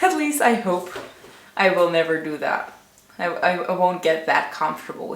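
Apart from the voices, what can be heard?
No everyday noise stands out behind the speech.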